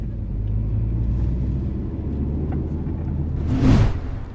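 A car on a short test drive after repairs, a steady low engine and road rumble throughout, swelling briefly near the end as something passes close or the engine pulls harder.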